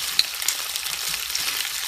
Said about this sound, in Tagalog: Sandali niyo lang po i-prito yung hipon kasi madali lang naman ito maluto.